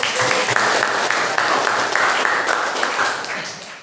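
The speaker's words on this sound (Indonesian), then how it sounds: "Baik, berikan tepuk tangan." Students in a high school physics class applaud together, a full burst of clapping that carries on steadily and fades slightly toward the end, with faint voices mixed in.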